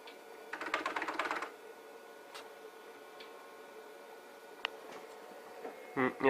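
Keys clatter in a quick burst on an old 1991 computer keyboard, followed by a few scattered single clicks and a brief louder clatter at the end, fairly close in a quiet room.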